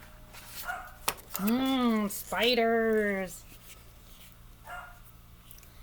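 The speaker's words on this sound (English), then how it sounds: "Sorry about my dogs barking." Dogs give two drawn-out, whining barks or yelps indoors, close and fairly loud, with a short spoken word just before them and quiet rustling around them.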